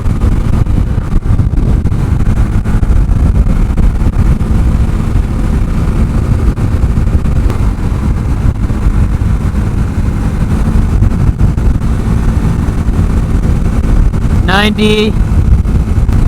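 A Honda Grom motorcycle runs flat out at top speed on a highway; heavy wind buffeting roars over a strained engine hum, while a rider talks throughout and a brief sharp rising tone cuts in near the end.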